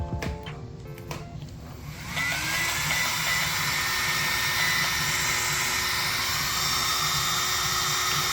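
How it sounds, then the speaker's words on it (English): A small HyperFlow cooling fan on an RC car's Castle Creations Max8 combo, run at 8.4 volts, whirs steadily at a high pitch, spinning up after a couple of seconds into a constant buzzing drone. "You can definitely hear a difference in the pitch of the fan"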